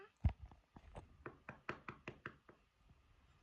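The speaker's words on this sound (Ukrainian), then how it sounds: "Хтось стукає двері." A series of about ten quick knocks on a door, sharp and fairly close, in an uneven rhythm that starts with one louder thump, with no talking.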